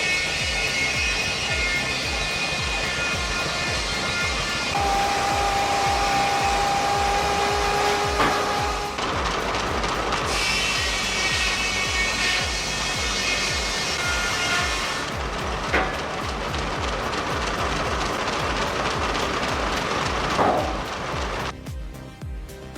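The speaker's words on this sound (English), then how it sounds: "visitors witness its powerful machinery in action, cutting wood as it did a century ago" Historic sawmill machinery cutting wood, a continuous loud mechanical roar with rhythmic pulsing and periodic shifts in pitch as the saw works through timber, running throughout without talk.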